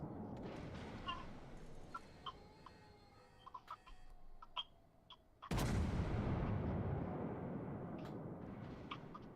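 Warship guns fire in the World of Warships naval battle game, a massive booming salvo erupting midway and rolling on with a long rumbling decay, preceded by lighter game sounds and clicks.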